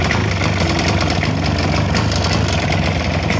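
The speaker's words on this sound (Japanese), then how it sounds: "遠心クラッチが効いてるとギーギーギーギー音しますので" Spider Mower grass cutter engine running with its centrifugal clutch engaged, a loud, steady, rough drone with a knocking, vibrating quality throughout, close and alone.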